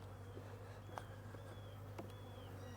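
Honey bees buzz around hive frames in a steady, faint droning hum, with a few brief knocks and clicks of the frames being handled.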